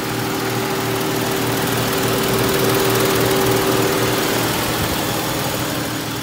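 A 2012 Dodge Charger engine running steadily after a repair that cured its knocking, a constant loud close idle with a smooth hum and a faint tonal whine, no talking.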